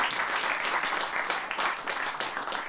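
An audience at a talk with John Carlos claps their hands in a continuous wash of applause, dense and even, heard from a moderate distance.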